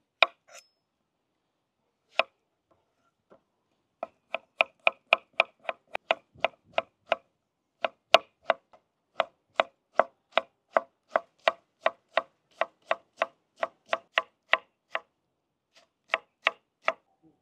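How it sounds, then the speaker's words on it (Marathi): Knife chopping tomatoes on a board, a long run of crisp, evenly spaced close thuds after a few scattered cuts, with brief pauses between bursts and no talk. "आपण आता टमाटर कट करून घेऊ।"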